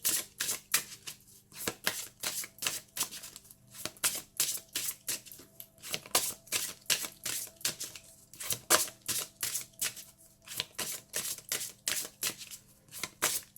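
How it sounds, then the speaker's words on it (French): Oracle cards being shuffled by hand in a long, steady run of quick riffling bursts, close and fairly quiet, with no talking over them. "Alors, on mélange."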